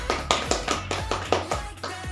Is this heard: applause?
yes